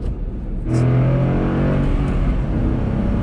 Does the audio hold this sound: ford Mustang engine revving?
yes